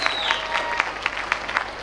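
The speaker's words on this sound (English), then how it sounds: "give a round of applause to Lannaman's Preparatory School" A graduation ceremony crowd briefly applauds a preparatory school marking its fiftieth year, a short burst of scattered, fairly distinct claps with a faint tonal hum beneath.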